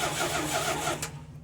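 A car engine cold-starting at 30 degrees, fed by a mechanical fuel pump, cranks and catches into a steady, loud, close running rumble that eases off near the end.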